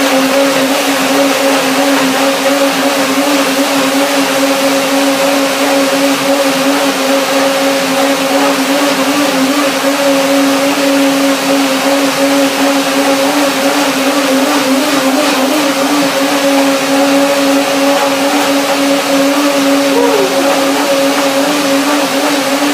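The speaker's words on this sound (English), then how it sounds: "I will begin the blender dance" A blender whirs steadily at high speed, mixing a raw vegan smoothie of Brazil nuts, rocket and blueberries, with a loud, even motor drone and no talking.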